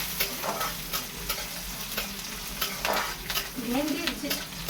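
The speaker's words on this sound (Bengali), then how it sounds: "পেঁয়াজটা ভাজা ভাজা হয়ে গেলে" Onions sizzle steadily as they fry in a pan, with intermittent stirring scrapes and soft clatters, close and fairly loud throughout.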